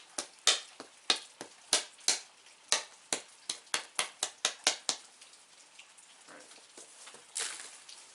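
Georgetown flint biface is struck by direct percussion, giving a run of about fifteen sharp, close clicks and taps, evenly spaced and then quickening, followed by quiet and one softer scrape.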